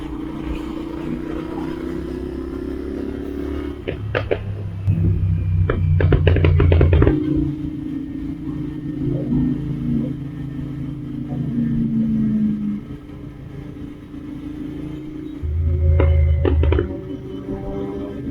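Sport motorcycles on a Sunday group ride, including a Suzuki Hayabusa, Kawasaki ZX-6R and ZX-250: steady close engine drone with rising revs and throttle surges, louder bursts mid-way and near the end, no talk.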